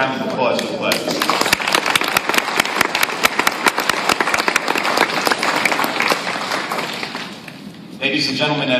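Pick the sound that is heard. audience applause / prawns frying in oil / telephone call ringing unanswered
audience applause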